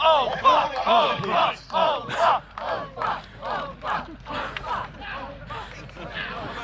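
Spectators at an English Heritage re-enactment of the Battle of Hastings shout loud, rhythmic collective cheers for the warriors. Each surge of voices rises and falls in a steady pulse, close and forceful.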